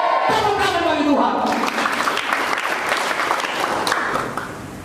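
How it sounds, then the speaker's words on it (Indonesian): A church congregation at a youth service breaks into applause, the clapping swelling in over a fading voice and sustained tones, then holding as a broad, lively crowd sound before tapering off at the end. "Tepuk tangan bagi Tuhan"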